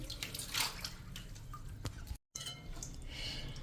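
Water being poured and swapped in a vessel holding boiled green chickpeas, heard as steady close splashing and trickling with a few drips, briefly cut off partway through.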